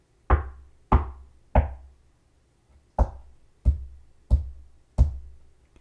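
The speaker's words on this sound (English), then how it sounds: "what you hear is a sound of 6 little feet followed by 4 furry feet" Seven slow, evenly spaced footfall-like thumps, heavy and close, with a gap after the third; presented as the steps of three children followed by a dog on a hot Southern night in 1951.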